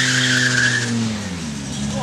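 An Audi rally car with an S2 engine sits at the start line of a rally stage, its engine droning loudly and close with a rising whine that settles into a steady idle-like rumble, under a voice talking.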